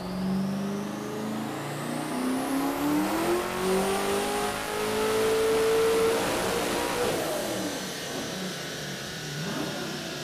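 A Hennessey Venom GT's twin-turbo 7-liter V8 revs hard on a dyno, tires spinning, climbing in pitch under heavy load, roaring loudly for several seconds before easing off, with a whirring turbo whine above it.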